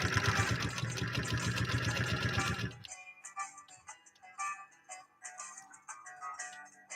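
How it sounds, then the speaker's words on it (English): A New Home Golden Machine sews leather, a dense, steady mechanical chatter for nearly three seconds, then stops, leaving scattered ticks and light clicks of the machine being handled. "this is how you sew a non-straight line."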